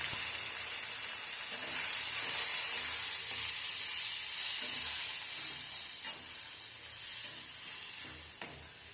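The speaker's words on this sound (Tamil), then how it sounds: "இது கூட 3 தக்காளி பொடியாக நறுக்குன கழுவி கட் பண்ண 3 தக்காளியையும் இது கூட சேர்த்துக்கிறேன்" Chopped tomatoes tipped into a pan of sautéed onions, frying with a steady, close sizzle and hiss that carries on throughout, with faint stirring clicks and no talking.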